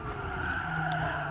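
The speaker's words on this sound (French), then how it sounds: "Voilà, elle glisse la bagnole." Tires squeal as a car slides through a corner in Gran Turismo Sport, a sustained skidding whine layered over the engine's hum, close and steady.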